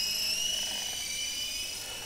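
A cheap toy helicopter from AliExpress runs its small electric motor with a continuous high-pitched whine and buzz, steady and fairly close, heard alone with no talking.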